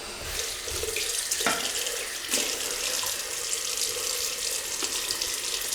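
Tap water runs steadily into a sink as a razor is rinsed, a constant close splashing stream with a few brief clinks of metal against the basin.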